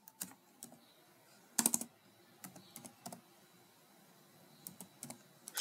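Code being typed on a computer keyboard in short irregular bursts of clicks with brief pauses, faint and close, with no talking.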